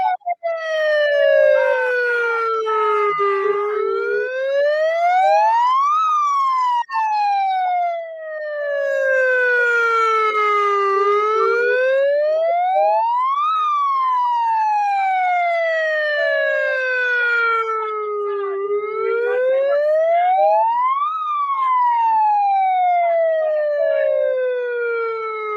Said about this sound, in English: Let's play the siren. Play the siren.